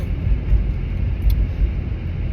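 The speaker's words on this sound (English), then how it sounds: "My car is gonna be loud." A car with its muffler removed because of a rusted connection rumbles loud and low, a steady, close exhaust drone with no breaks or speech.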